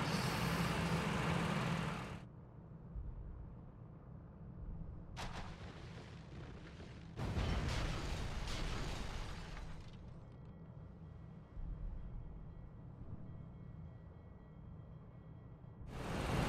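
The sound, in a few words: bombs exploding from a Felixstowe F2.a in video game Rise of Flight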